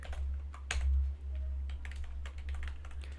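Rapid keystrokes clatter on a computer keyboard while Python code is entered, a close, uneven burst of clicks over a low steady hum with no speech.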